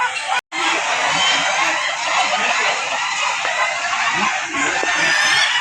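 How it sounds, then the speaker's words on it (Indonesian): Ayam ketawa roosters crowing at a national contest in Purwokerto, a dense, continuous din of many birds crowing and cackling together at moderate distance, with faint crowd chatter underneath. "itu ayam langsung kokok"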